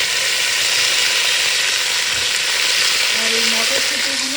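Vegetables hit the hot pan for khichdi with a loud, steady, broadband sizzle that stays even throughout, and a brief faint tonal squeak near the end, with no talking.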